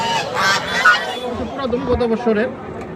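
Geese and goslings for sale at the Dhaperhat livestock market in Bogura honk loudly and repeatedly at close range, with market chatter and voices mixed in.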